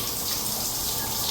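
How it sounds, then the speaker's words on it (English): A hotel shower sprays water in a dense, steady hiss, close and loud, unbroken for the whole short stretch with no voices. "Now, the water is immediately spraying further this way"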